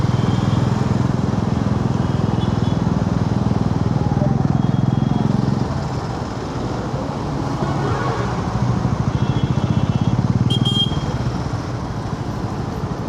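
A motorcycle engine runs steadily and loud throughout, its note dipping slightly midway then rising again, with a brief sharper burst near the end; talk may be faintly mixed in.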